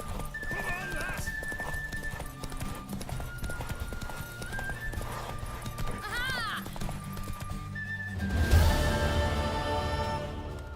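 Horse hooves clip-clop steadily in The Witcher 3, with a neigh or whinny and game music and voices running throughout; the hoofbeats grow louder and busier near the end.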